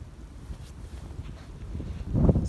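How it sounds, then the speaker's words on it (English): Cold wind gusts across an outdoor Amish cemetery, a low steady rumble of buffeting air that swells louder toward the end. "It's very cold out here and windy. The wind's picking up."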